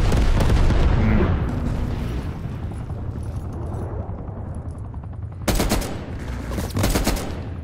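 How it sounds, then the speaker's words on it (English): A napalm strike in Call of Duty: Black Ops Cold War sets off loud, heavy rumbling explosions layered with rapid gunfire. A dense roar starts the passage and sharper blasts burst out again near the end. "Napalm strike inbound."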